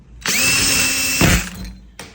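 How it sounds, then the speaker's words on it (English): A power drill bores into a smart lock deadbolt, a loud close whine lasting about a second, then a short grinding burst and a brief second spin. "You got the drill bit, come right up against it, push hard."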